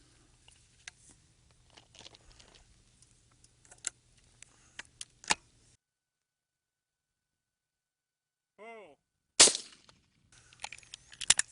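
A single loud shotgun blast at a quarter-angle clay target from station 5 in trap shooting, ringing out sharply after a hush, preceded by scattered light clicks and a brief chirping sound.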